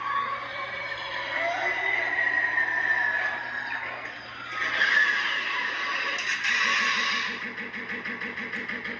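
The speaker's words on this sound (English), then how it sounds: "So I gave you kind of a unstable ignition on that because I thought it went well with the pod racing theme." A pod-racing-themed lightsaber sound font with an unstable ignition: a sputtering, crackling activation that settles into a buzzing, wavering hum with swelling pulses, steady and close for several seconds.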